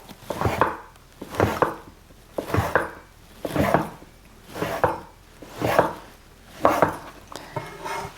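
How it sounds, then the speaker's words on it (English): A knife chops through fresh pasta dough on a board, eight evenly spaced, crisp thuds in a steady rhythm, close and clear with quiet pauses between. "Cut into your pasta."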